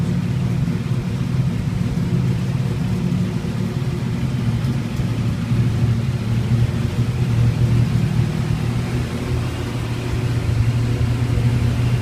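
A 1987 Buick Grand National idles after a cold start following months of sitting in a shop, its engine giving a steady, continuous low rumble with no revving, close and evenly loud throughout.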